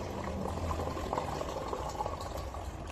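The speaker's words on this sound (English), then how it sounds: "Alright, chuck some water in." Water poured into a bottle for carbonation, a steady rushing, bubbling flow lasting the whole time at moderate loudness, with no talk over it.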